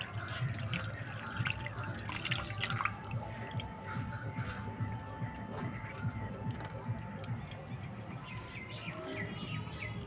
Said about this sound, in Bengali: এভাবে জল দিয়ে ভিজিয়ে দেব।